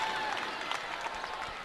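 Light, brief applause from a crowd at a Class 4A state high school volleyball match between Cheyenne Mountain and Silver Creek, a steady wash of scattered clapping lasting under two seconds.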